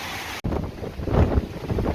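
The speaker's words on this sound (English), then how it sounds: "We've had some horrendous gusts out here." Loud, roaring hurricane wind on a farm in Lucedale, Mississippi buffets the microphone in heavy gusts, with a brief dropout followed by a sustained rushing storm.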